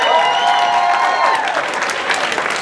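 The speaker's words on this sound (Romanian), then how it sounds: "Aplauze pentru ea!" Steady applause from a crowd, dense and loud throughout with no pauses.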